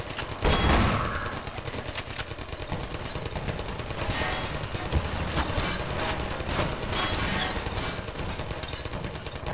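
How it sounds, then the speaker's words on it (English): Rapid gunfire in the Half-Life 2 VR mod, a dense fusillade of repeated shots rattling continuously at steady loudness. "Lots of shooting."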